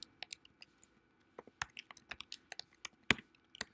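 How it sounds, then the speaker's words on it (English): Quick, uneven keystrokes clatter on a computer keyboard during a Chrome DevTools coding session, light clicks coming in bursts with short pauses, close and fairly quiet. "You can ignore what I'm typing at the moment."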